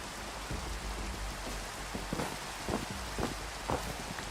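Rain falling in Minecraft, a soft steady hiss with scattered faint taps and patters throughout.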